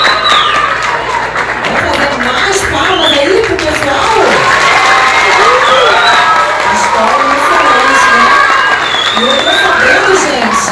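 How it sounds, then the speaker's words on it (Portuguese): Lively crowd at a theatre performance applauds and cheers loudly and steadily, with whoops, children's shouts and overlapping voices mixed throughout the dense, continuous noise. "Mais palmas aí pro pessoal."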